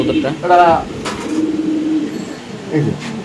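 Spanish and racing pigeons at a market coo in short, soft, close bursts while people talk nearby.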